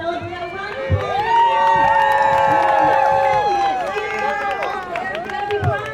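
A large outdoor festival crowd cheers and whoops over a spread of overlapping voices, with scattered claps and a few nearby thumps, loud and sustained across the moment.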